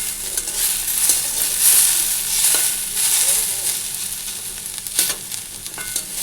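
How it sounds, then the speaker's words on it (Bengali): Potatoes and onion fry in hot oil with a steady, close sizzle that swells and fades slightly as they are stirred, broken by a few soft scraping clicks, with no talking. "আর এই যে আলু ভাজা হচ্ছে পেঁয়াজ দিয়ে"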